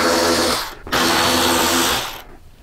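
A power tool whirs steadily up close as it backs out the bottom bolts holding a motorcycle headlight backing plate to the outer fairing, with two continuous bursts separated by a brief pause before spinning down.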